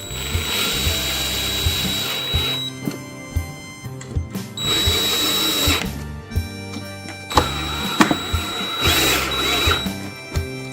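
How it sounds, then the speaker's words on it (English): A power drill drives screws into a controller plate in repeated whirring bursts of a few seconds each, with clicks and clatter between runs, close and clear. "Let's go ahead and tighten those down."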